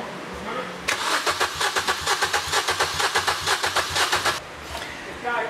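A cheap car with a fuel pressure problem cranking without catching, the starter churning in a fast rhythmic whir for about three and a half seconds, with voices talking before and after.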